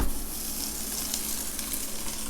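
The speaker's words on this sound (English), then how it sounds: "First, we're going to cook the sausage." Sausage sizzles and fries steadily in a pan while being browned for lasagna, a close, continuous crackling hiss that stays even throughout with no talking.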